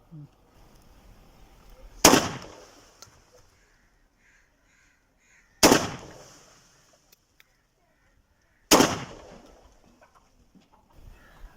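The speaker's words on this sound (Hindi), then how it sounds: "3 राउंड है, 3 राउंड सेमी ऑटो पे फायर करके चेक करते हैं।" Three loud, sharp semi-automatic shotgun blasts fired with ALPHA Shooter 27 gram cartridges, each cracking out alone and ringing off, spaced a few seconds apart.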